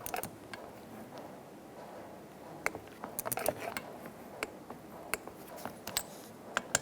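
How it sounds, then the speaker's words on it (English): Torque wrench tightening radiator cooling fan bolts on a 2007-2017 Ford Expedition 5.4L V8, giving scattered small metallic clicks and ratcheting ticks over a low background hum. "Let's torque these to 62 inch-pounds."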